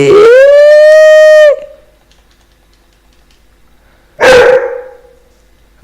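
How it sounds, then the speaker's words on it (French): A dog lets out a long, drawn-out howling bark that rings out loudly, then after a pause a second shorter, rougher bark follows, close by. "il a aboyé pour sortir"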